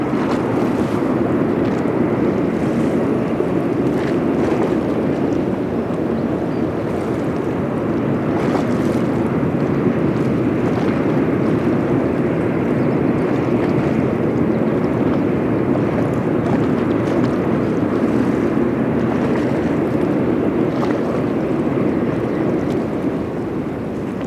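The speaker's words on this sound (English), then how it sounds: "The bow thrusters there, you just see on the starboard bow." A large ship eases into a canal lock while its starboard bow thrusters churn the water, giving a loud, steady broadband rumble mixed with wind buffeting for the whole stretch, with no voices.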